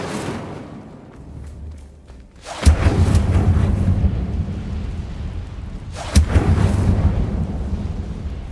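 An Incendio fire spell cast in a Harry Potter video game, two heavy booming whooshes of flame erupting several seconds apart, each leaving a loud rumbling roar.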